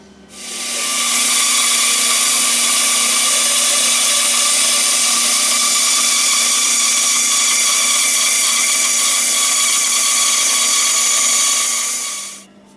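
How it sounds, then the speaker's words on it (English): A bandsaw slices through a wooden blank, cutting out the profile of a salad tong in one long, steady, loud whine that holds for about eleven seconds before winding down, with no talking. "So now we can go back to the bandsaw and cut out our profile."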